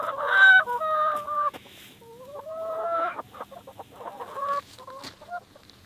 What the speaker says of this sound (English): Goodbye, chickens.